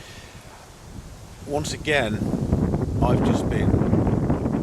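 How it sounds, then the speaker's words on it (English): Gusty wind buffets the microphone in low rumbling bursts while someone talks over it, the roar growing stronger toward the end. "It is very, very windy."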